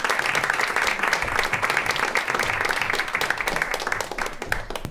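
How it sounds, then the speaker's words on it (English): An audience at a panel event breaks into steady, full applause that holds evenly for the whole span and tapers only slightly near the end, with no talk over it. "Yeah, you can applaud for them."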